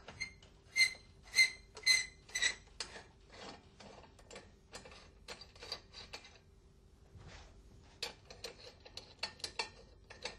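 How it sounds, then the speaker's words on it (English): Metal clamp on an Alfa Laval valve being loosened and removed, giving a run of sharp ratcheting clicks and mechanical taps, a loud burst early and lighter scattered clicks afterwards, with a steady low hum underneath and no talk. "Loosen and remove the upper clamp."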